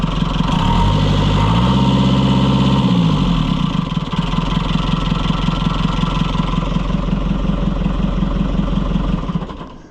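White 700 truck engine idling loudly and close through an aftermarket muffler, a deep steady throbbing rumble with a brief rise in pitch early on, then settling before fading out at the end.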